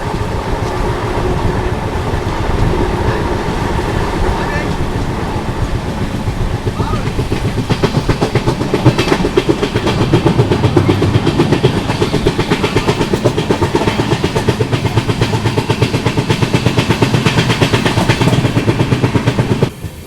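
The Pune–Kanniyakumari Express rolls along the rails, a loud continuous rumble with rhythmic clickety-clack of wheels over joints, heard from aboard the train.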